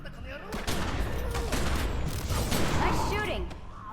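Dense gunfire from a video game fills the scene: a sustained fusillade of rapid, overlapping shots and bursts, loud and close, with voices speaking over the shooting.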